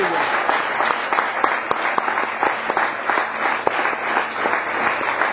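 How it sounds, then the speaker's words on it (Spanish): A church congregation claps in praise during a sermon, a loud, continuous wash of many hands with distinct nearby claps throughout, and voices faintly mixed in beneath. "Dale un aplauso al Señor."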